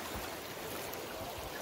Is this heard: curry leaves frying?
no